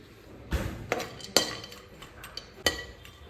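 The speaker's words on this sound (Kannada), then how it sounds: "ಇದೊಂದು ಸ್ವಲ್ಪ ಡ್ರೈ ಫ್ರೂಟ್ಸ್ನ ಗೀ ಹಾಕಿ ಫ್ರೈ ಮಾಡ್ತಿದ್ದೀನಿ." Utensils clink against a pan as dry fruits fry in ghee for a homemade milk vermicelli payasa, with a few sharp metallic taps and scrapes spaced over a quiet kitchen background.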